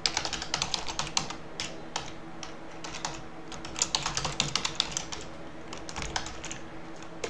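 An email address being typed on a computer keyboard: a steady, close run of crisp key clicks at an uneven rhythm, with no talking.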